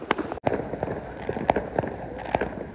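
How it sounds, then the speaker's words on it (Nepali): Firecrackers bursting during Diwali celebrations in Malaysia: a quick scatter of sharp pops and cracks, some nearer and some farther, ringing out over a noisy street background. "आज मलेसियामा तामिलहरूको चाहिँ यो दीपावली हो यहाँ पनि मनाउँछ तामिलहरूले यता पनि पड्केछ यता पनि उता पनि"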